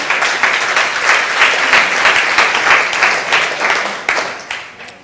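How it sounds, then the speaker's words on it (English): An audience applauds at a corporate gathering, a dense, loud crowd of clapping hands that pulses slightly and keeps going throughout, with no voices over it. "A round of applause to Anna and Mr. Thomas, their contribution."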